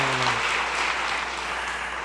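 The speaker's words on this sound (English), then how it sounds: "And now you may give them all a round of applause." An audience at the 2012 Golden Herald Awards ceremony claps, giving a short, dense and even wash of applause that holds steady and fades only slightly.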